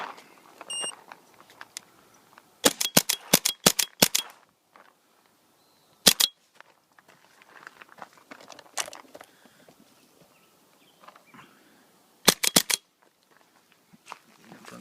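An Empire Resurrection Autococker paintball marker fires in quick bursts of sharp pops, a rapid string of shots followed by isolated single and double shots, with quiet outdoor background between them.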